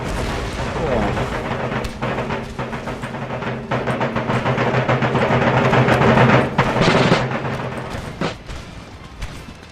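Musket volleys fired by rank in the Empire Total War video game, a dense rolling crackle of massed gunfire with booming thuds, swelling steadily louder toward the end before easing off, with talk faintly beneath.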